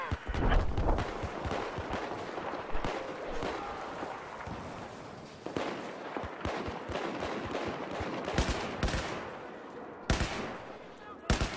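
Rapid first-person shooter video game gunfire on a naval strike map, with repeated bursts and single shots that are loud and close and run throughout, while speech from game chatter sits underneath.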